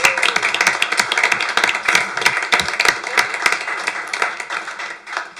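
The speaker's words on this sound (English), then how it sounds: "if we can just give them a little round of applause." Modest applause from staff and attendees at a Midvale city council meeting, with uneven hand claps that fade toward the end and a few voices mixed in.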